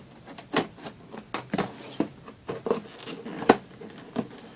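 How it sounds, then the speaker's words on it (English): Scissors cutting open a mailed package, a quiet series of sharp irregular snips and crinkly scratches close by, with no talking. "Oh, I can use scissors."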